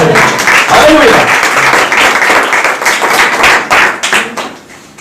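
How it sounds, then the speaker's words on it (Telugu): A church congregation claps loudly and continuously at close range, a dense patter of many hands mixed with voices that gradually thins and fades toward the end. "గట్టిగా దేవుని చప్పట్లు కొడతారా?"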